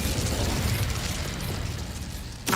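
Incendio fire spell cast in Hogwarts Legacy: a dense, sustained roaring burst of flame fills the moment, with a fresh sharp burst right at the end.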